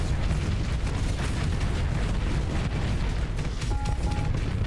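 Torpedo barrage explosions in the space combat game Starsector form a dense, continuous roar of booming blasts, loud and steady, with no talking.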